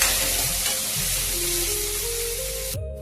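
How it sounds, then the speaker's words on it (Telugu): Sliced onions sizzle and fry in a pan for a brinjal and tomato curry, with steady hissing and occasional stirring scrapes throughout, close and fairly loud, ending abruptly. "ఇదిగోండి దీంట్లో ఉల్లిపాయలు వేసుకోవాలండి."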